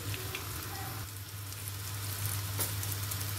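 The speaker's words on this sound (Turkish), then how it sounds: "Ve bunları da kızarana kadar kızartıyorum." Steady frying sizzle of meatballs in hot oil, a continuous crackling hiss with a low hum beneath it and no voices.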